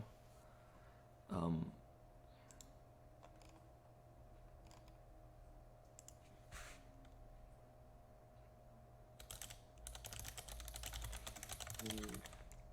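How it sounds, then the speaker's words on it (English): Quick clattering keystrokes on a computer keyboard, faint and close, coming in scattered bursts and picking up into a dense run of typing near the end. "Sorry, I'm typing."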